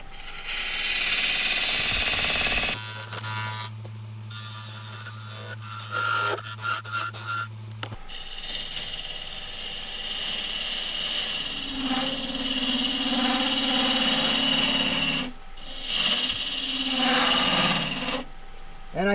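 A turning tool cuts into a wooden log spinning on a lathe while a lamp shade is shaped, giving loud rough scraping and rasping in long passes, broken by a steady machine hum and brief pauses.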